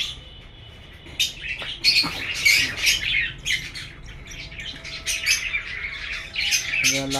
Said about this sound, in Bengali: এই যে আমার লাল ঠোঁট পাখি, এই যে আমার লাল ঠোঁট পাখি